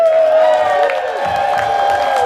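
Crowd noise fills a convention main hall, a broad roar of cheering with a sustained tone riding through it, loud and close, with a brief voice in the mix.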